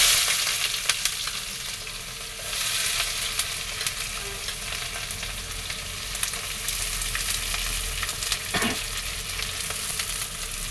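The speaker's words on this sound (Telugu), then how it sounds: "ఆనియన్ వేసేసి ఇలా బాగా కలుపుకోవాలి." Onions fry and get stirred in a pan, making a continuous close sizzle broken by soft scraping stir strokes, with no talking.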